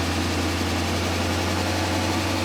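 A 1998 BMW 740iL with a new fuel pump idles after revving, a steady low hum with a constant rumble and slight vibration, no voices, holding even throughout.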